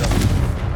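A Confringo blasting spell explodes in Hogwarts Legacy, a single sharp loud boom with a short crackling tail, fading quickly over less than a second.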